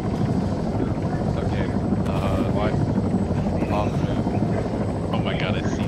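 Helicopter rotor and engine noise from a video game plays as a steady, loud drone throughout, with players talking over it.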